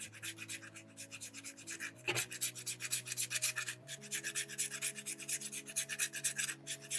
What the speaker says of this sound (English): Using the flat side of my rasp to really carve across these square blocky edges, round them off.